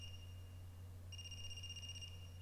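A phone rings in the video game Ai: The Somnium Files, a short electronic trill repeating for about a second over a steady low hum, fairly faint and with no one talking.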